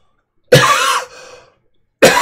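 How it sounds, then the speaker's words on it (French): A single loud, close cough with a raspy trailing breath, followed by the start of another cough after a short silence. "Excusez-moi, je tousse."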